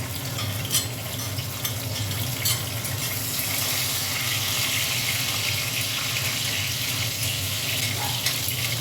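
Chopped garlic sizzles steadily in hot oil in a pan, a loud, even crackling hiss close by with occasional stirring clinks and no talking.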